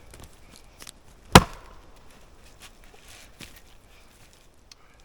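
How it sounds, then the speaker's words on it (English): An axe strikes a log being split on soft ground outdoors, giving a single sharp, loud chop followed by a dull thud and faint rustles, close by and without talk. "when you split on the ground, like this soft ground, you can see when I hit this log"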